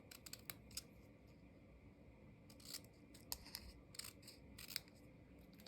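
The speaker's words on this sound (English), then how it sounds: "I might just cut a really thin stem out." Scissors snipping through thin paper to cut out a small stem for a St. Patrick's Day craft, a series of quiet, crisp clicks and snips at an uneven pace, close but faint over a soft room hush.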